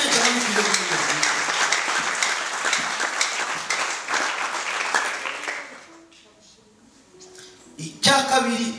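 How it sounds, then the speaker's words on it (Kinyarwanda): A church congregation breaks into sustained, dense applause that fades after several seconds, followed by quieter sounds and a sudden louder burst at the end. "Reka dukomere Yesu amashyi menshi"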